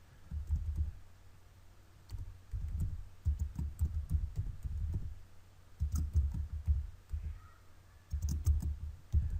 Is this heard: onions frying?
no